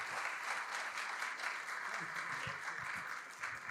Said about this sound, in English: So let's give a round of applause to our New Mexico filmmakers.